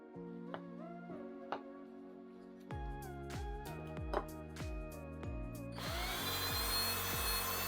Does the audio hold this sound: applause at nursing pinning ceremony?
no